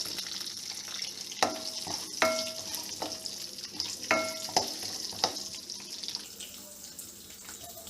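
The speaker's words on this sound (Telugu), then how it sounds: "కరివేపాకు వేగాక ములక్కాయ ముక్కలు, వేసుకొని కొద్దిసేపు వేగనివ్వాలి." Drumstick pieces frying with curry leaves in a pan, giving a low steady sizzle marked by a series of metallic clinks and scrapes from stirring, some of them ringing briefly.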